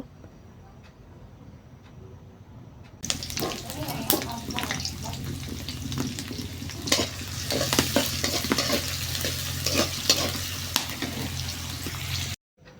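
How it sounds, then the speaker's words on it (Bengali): Chopped onion and garlic fry in hot oil for a fresh greens dish, a steady loud sizzle with stirring scrapes that starts abruptly and runs alone for about nine seconds before cutting off. "পেঁয়াজ কুচি আর রসুন কুচিটা একটু লাল লাল করে ভাজবো।"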